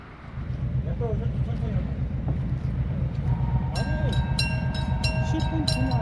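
A train rumbles steadily past Soyo level crossing near Soyosan Station with a heavy low roar, while the crossing alarm starts ringing and clanging rhythmically partway through.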